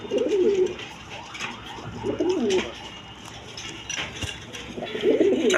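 Satin pigeons cooing close by in three soft, throaty bursts separated by short pauses, over faint background clatter.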